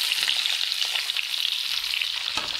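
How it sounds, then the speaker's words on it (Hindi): Onions fry in hot ghee and oil in a pan after okra was fried in the same fat, giving a steady, dense sizzle close up that runs unbroken with no voices. "अब हम इसी घी में तेल में अपने जो प्याज है वो फ्राई"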